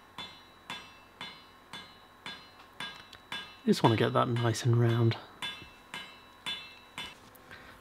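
A hand hammer strikes a hot iron bar being forged into an axe-hammer handle, ringing blows in a steady, evenly spaced rhythm, with a voice speaking briefly over it midway.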